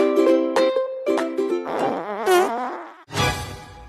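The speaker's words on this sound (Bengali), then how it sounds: "আর এই নাকি গন্ধ পাদের, ছি ছি" A loud comedic fart sound effect, a string of tonal buzzing bursts with wavering pitch followed by a rougher final blast, heard alone without talk.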